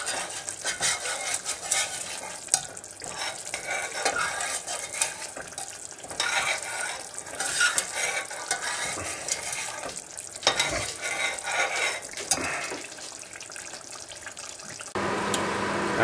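Kashmiri masala paste cooks down in a pan, stirred steadily with a spoon scraping through the thickening mixture, a continuous close sizzle and wet scraping with no talking.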